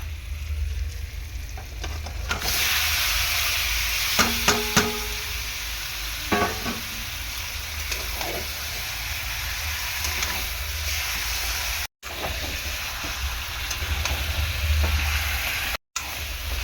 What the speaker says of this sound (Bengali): দিয়ে ভালো করে চিকেনটাকে কষিয়ে নেব।